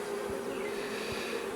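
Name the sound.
honeybees in an opened beehive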